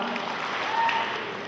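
Brief, even applause from the audience at a 2011 Christmas concert in Gąbin, Poland, moderately loud with voices mixed in.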